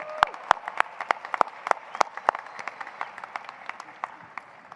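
Applause at a new-student convocation ceremony, sharp distinct claps standing out over a thinner crowd wash, fairly close and sustained throughout.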